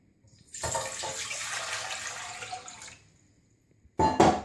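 One liter of water pours steadily into a pot for a couple of seconds, stops, then a short burst of splashing and clinking follows near the microphone.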